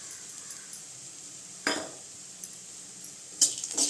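Bitter gourd fry being stirred in a pan with chilli powder added: faint scattered clinks and scrapes of a utensil against the pan, with a couple of louder knocks, over a quiet background.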